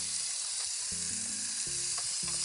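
Food sizzles steadily in a pan on a SAN Hima camp stove, a continuous bright frying hiss with a few low knocks and scrapes of the pan partway through.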